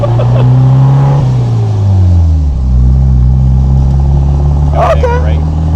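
A 1959 MG MGA 1600 engine idles and drives with a steady low rumble, its pitch shifting as it pulls away, while people talk over it in the car.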